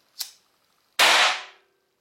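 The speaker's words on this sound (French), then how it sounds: "ça pète extrêmement fort, plus fort qu'un pétard" Homemade HHO hydrogen gas ignited in small quantities: a sharp snapping pop followed by a single much louder, close explosive bang that decays over about half a second.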